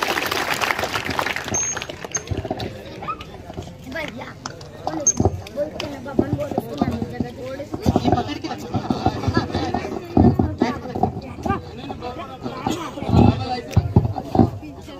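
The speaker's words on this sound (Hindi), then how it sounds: "तो सभी तालियां बजाकर उनको स्वागत करें।" An audience at a gathering claps to welcome a speaker, with scattered, uneven applause building and continuing under voices and background chatter.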